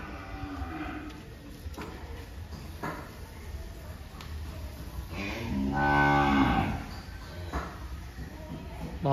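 Cattle at a Vietnamese livestock farm let out one loud, close, drawn-out moo midway through, while shuffling and soft background chatter continue around it.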